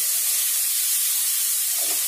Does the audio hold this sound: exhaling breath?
no